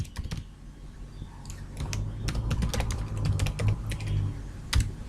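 Close computer keyboard typing of an email ID into a contact form, irregular bursts of crisp key clicks over a low background hum, with no talking.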